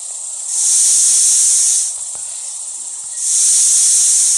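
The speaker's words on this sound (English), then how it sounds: "It's a snake." Snake hissing: two long, loud airy hisses, each lasting more than a second, separated by a brief quieter gap, close and alone without talk.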